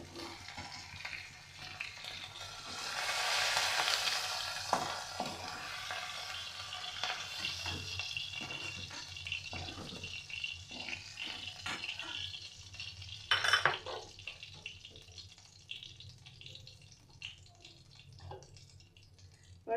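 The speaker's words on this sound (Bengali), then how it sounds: "চিংড়িগুলোকেও আমি লাল করে ভেজে নিলাম" Prawns seasoned with salt and turmeric frying until reddened in a pan, a soft sizzle with scattered clinks and scrapes of a utensil and a sharper spatter midway, fairly quiet and without talk.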